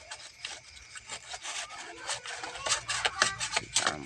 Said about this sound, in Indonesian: as rotor itu harus diamplas sampai benar-benar bersih.